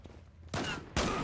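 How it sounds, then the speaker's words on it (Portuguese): Bursts of gunfire in the online shooter Zula, with the L11 rifle in use: two loud sustained volleys, the second starting abruptly after a short lull, up close and with no talk. "Tomando tiro, não sei da onde."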